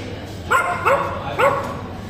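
A small dog in a pet-friendly restaurant gives three short, high yips in quick succession, close by over quiet background noise.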